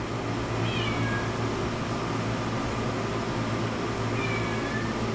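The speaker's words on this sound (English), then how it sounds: "I'm gonna lock you in here if you keep meowing at me like that." A cat meows twice, faint and high, a few seconds apart, over a steady mechanical hum.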